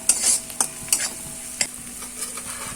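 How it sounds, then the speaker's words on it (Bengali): Onion and chilli frying in a pan, with a soft sizzle under several sharp scraping stirs in quick bursts, close by and brief, with no one talking. "পেঁয়াজ ও লঙ্কাটা আমরা ভেজে নিচ্ছি"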